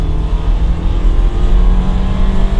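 Automatic car's engine revving hard and loud, a dense continuous roar close up with no speech over it.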